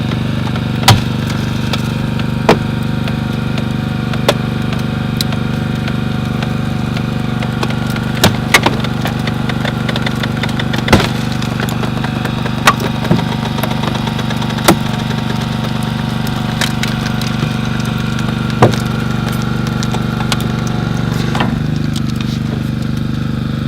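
A Crossram hydraulic rescue ram runs during vehicle extrication training, pushing B-post to B-post. A steady, loud mechanical drone from the powered equipment continues throughout, broken by scattered sharp clicks and knocks.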